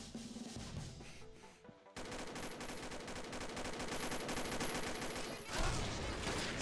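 Rapid automatic gunfire in the game Combat Arms rattles almost nonstop, with a brief pause before a fresh dense volley and a sharp louder burst near the end.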